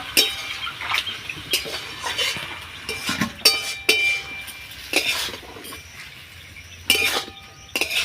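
Banana flower being stirred and sautéed in a pan for a Bengali prawn dish, with a spoon repeatedly clinking and scraping against the metal in irregular, close strokes.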